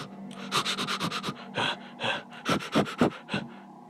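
Dog panting heavily up close in rapid bursts of breathy huffs, pausing briefly before resuming with a few louder gasps.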